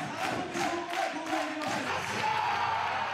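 A pro wrestling crowd in Japan cheering a tag match between first-year students, a dense, steady roar of voices with rhythmic rises like chanting or clapping, filling the hall.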